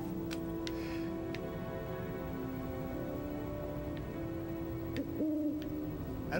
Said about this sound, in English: Get over here, you beautiful bird, my perfect bird angel.